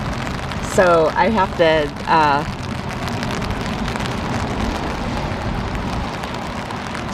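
Steady rain falls outdoors on a Saturday morning, a constant hiss throughout, with a person talking briefly near the start before the rain continues alone.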